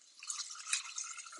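Water is poured into a cooking pot in a kitchen, making a brief, soft, hissing splash that stays fairly quiet and has no talk over it.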